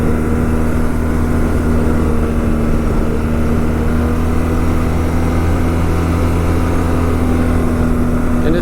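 A steady, droning engine and road hum from a 2011 BMW R1200GSA motorcycle leaning through corners, continuous and fairly loud with a constant low tone and wind noise, no voices.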